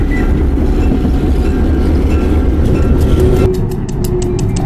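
Locomotive 6133 backing down a railway line toward a junction, a loud, close rumble of engine and rolling wheels that is continuous, with faint rhythmic clicks and a brief squeal as it nears the end.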